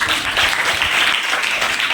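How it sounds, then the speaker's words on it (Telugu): A round of applause at a school event for donated chemistry records, with dense steady clapping from a crowd, loud and continuous for the whole moment. "బిగ్ రౌండ్ ఆఫ్ అప్లాజ్ ఒకసారి"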